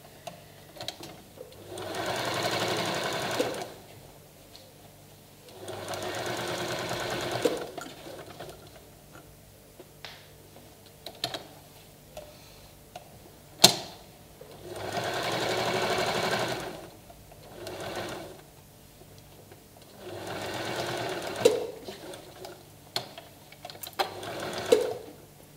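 Sewing machine straight stitching across a bag strap, several bursts of rapid mechanical whirring a few seconds each, separated by quiet pauses with small clicks and handling taps.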